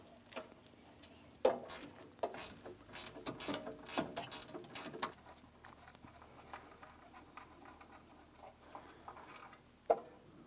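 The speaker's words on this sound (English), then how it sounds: "I'm using an 8mm ratcheting wrench to remove the line." Close, quick clicking of an 8mm ratcheting wrench backing out an AC line bolt at the condenser on a 2007-2014 Ford Edge 3.5L, in rapid bursts that slow to sparse ticks, with no voices.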